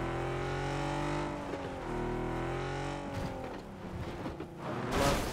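A car in the video game PUBG drives with a steady, droning engine hum that holds its pitch, then shifts and roughens near the end, with a brief burst of noise at the close.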